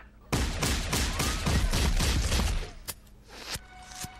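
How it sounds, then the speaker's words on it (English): Rapid bursts of gunfire from a gunfight at a benefit in the 1994 film The Mask crackle in a dense volley, then thin out into a few scattered, sharper shots. "they having a huge gunfight at a benefit"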